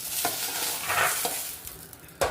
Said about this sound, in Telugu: కడాయి పెట్టుకుని ఒక స్పూన్ ఆయిల్ వేసుకోండి ఆయిల్ హీట్ అయినాక టమాటాలు వేసుకోండి